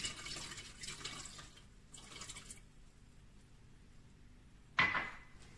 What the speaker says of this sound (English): Then pour water into water softener in order to fulfill it.